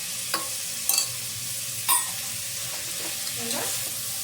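Beans, carrot and peas fry in a pan for Karnataka-style bisibela bath, with a steady sizzle broken by a few sharp scraping stirs of a spoon against the pan.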